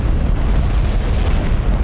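The Hiroshima atomic bomb blast comes through as a loud, sustained, deep rumbling roar that fills the whole stretch evenly, with no break and no voices.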